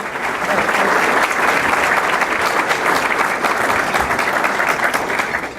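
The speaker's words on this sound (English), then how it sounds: "Let's give her a round of applause." An audience applauds steadily at an event for Chicago's city treasurer, a full, dense wash of clapping that holds at an even level from start to finish.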